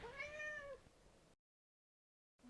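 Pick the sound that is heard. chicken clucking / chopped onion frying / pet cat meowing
pet cat meowing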